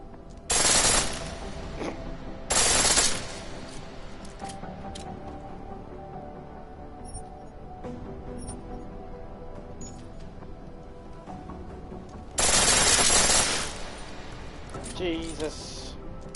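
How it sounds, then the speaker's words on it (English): Full-auto pistol fire from Deus Ex: Mankind Divided comes in three short, loud bursts, the last one longer, with a speaking voice and quieter game ambience between them. "The pistol in full auto will take down targets fast, but it'll burn through your ammo."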